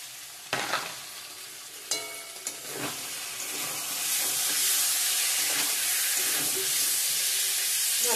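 Ground chili, coriander and cumin are sautéed in a pan for a paneer, potato and pea curry: a few sharp scraping strokes at first, then a rising, steady hiss of sizzling.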